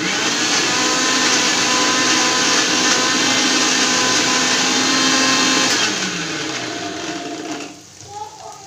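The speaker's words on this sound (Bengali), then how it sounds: "আমি কাঁচকলার খোসাটা আরেকবার গ্রাইন্ড করে নেব" An electric kitchen grinder blends green banana peel into a paste, a loud, steady whirring whine that runs for about six seconds before winding down and fading.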